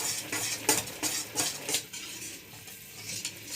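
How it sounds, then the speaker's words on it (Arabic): A spoon scrapes and clinks around a pot of fenugreek (helba) mixture being cooked down, giving a continuous close scraping with a few louder knocks against the metal. "هفضل اقلب فيها لغايه ما يختفي كل حاجه عندي"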